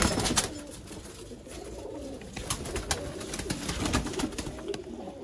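Pigeons of a pearl-eyed breed coo in a loft in Sialkot, Pakistan, a steady stream of soft, rolling coos with a few brief wing flutters, close and fairly clear.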